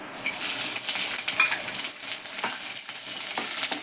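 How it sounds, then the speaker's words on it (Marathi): Green chillies and peanuts roasting in hot oil, giving a steady, close sizzle with faint scraping stirs through the whole stretch and no talk. "मिरची आणि शेंगदाणे भाजून घेते"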